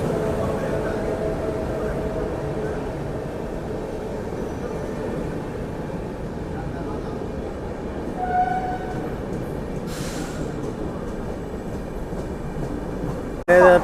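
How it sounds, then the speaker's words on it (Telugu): A train drawn by a WF7 locomotive rolls in with a steady, loud rumble of wheels on track, a brief higher tone rising partway through and a sharp burst at the very end. "ట్రైన్ అయితే వచ్చింది. ఏ ట్రైన్ చూడండి కూడా WF7 లోకోమోటివ్ అయితే ఉంది."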